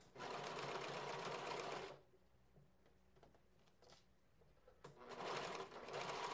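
A sewing machine stitches a seam on a raglan sweatshirt, running in two loud, fast, steady bursts separated by a quieter pause with faint handling and fabric rustle.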